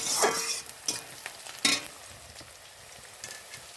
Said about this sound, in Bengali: এখানে আমি পেঁয়াজটা ভেজে নিচ্ছি